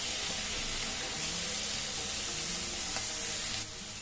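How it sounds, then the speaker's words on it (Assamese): Cabbage and green peas stir-frying in a pan with turmeric, giving a steady, close hiss of sizzling throughout that eases slightly near the end. "মই বন্ধাকবিখিনি ভালদৰে ভাজি ললো"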